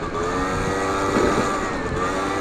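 A modified motorcycle engine revs hard on a hilly road, a loud, steady, throaty drone with strong harmonic buzz that holds close and constant, with no talk over it.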